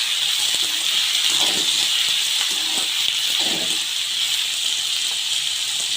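Green chillies, curry leaves and onions fry steadily in a pan, giving a constant loud hiss and sizzle with a few soft clinks and stirring noises near the middle. No one speaks.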